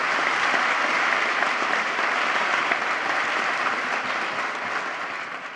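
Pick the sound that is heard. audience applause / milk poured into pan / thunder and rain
audience applause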